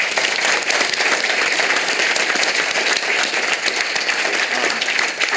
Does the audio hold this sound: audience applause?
yes